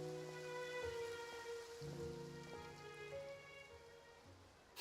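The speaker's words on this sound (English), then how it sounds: "It rained for longer than I suspected." Steady rain pours in a video game, a broad continuous patter on surfaces under tonal game music, with no speech.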